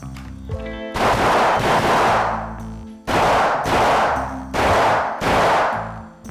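Loud gunshots fire in quick bursts, several sharp reports with short gaps between groups, echoing as in an indoor range.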